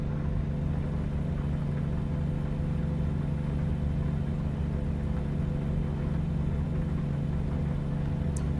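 Steady, loud truck engine drone while driving, a continuous low rumble with constant road and cabin noise throughout and no talking.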